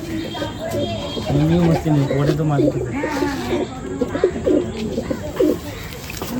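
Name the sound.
Madrasi pigeons cooing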